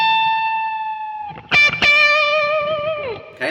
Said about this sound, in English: So you've got the full bend, release slowly into that root note twice.